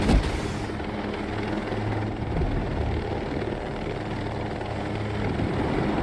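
Helicopter in Ghost Recon Breakpoint, a loud and steady rotor and engine roar with heavy low-end throb that continues without a break.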